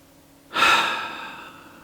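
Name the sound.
deep breathing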